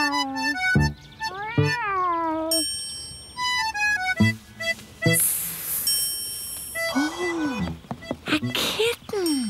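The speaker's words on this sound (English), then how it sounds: "Oh, a kitten." A young kitten gives a series of high, wavering meows, some short and some drawn out, close and clear over light background sounds, with a brief jingle partway through.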